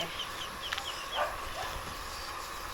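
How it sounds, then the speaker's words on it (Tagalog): Faint duck quacks and short calls come and go over a steady background hiss, a few birds calling briefly at a distance. "Mga pato."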